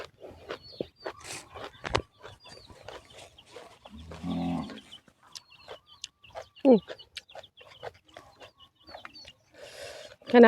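Chickens clucking and calling around a rice field setting, with scattered short clucks, a few louder squawks, and brief rustling or footsteps between them, fairly close.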